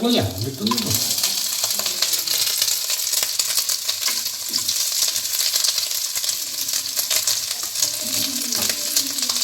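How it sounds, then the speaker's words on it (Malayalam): Ingredients tossed into hot oil sizzle and crackle loudly and steadily at close range, with faint clattering and kitchen noise beneath. "അപ്പോൾ ഇതാ എണ്ണയൊക്കെ ഫ്രൈ ആയി വന്നിട്ടുണ്ട് അതിലേക്ക് നമുക്ക് എല്ലാം കൂടെ വാരി വിതറിയിടാം"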